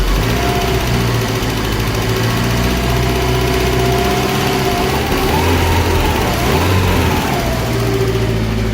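An overhauled Nissan SR20 engine runs steadily at idle, a loud continuous mechanical drone with a slight rise in pitch partway through, heard up close.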